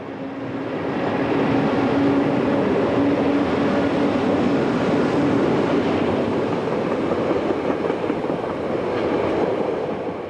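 CFL class 3600 electric locomotive no. 3612 hauls a Luxembourg–Rodange passenger train, a steady loud rumble and rolling roar that swells in the first second and stays heavy and continuous as it passes close by.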